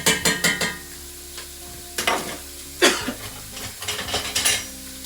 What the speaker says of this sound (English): Keep stirring unless you're using a non-stick pot.